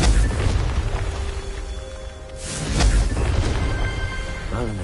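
Confringo explosion spell in a Harry Potter video game: loud booming blasts with crackling debris over a continuous rumbling game soundscape, with a couple of stronger impacts.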